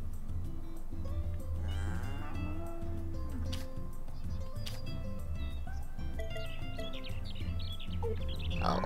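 A farm cow in the Story of Seasons: A Wonderful Life video game lets out a long, loud moo up close, with faint bird chirps and game ambience behind it.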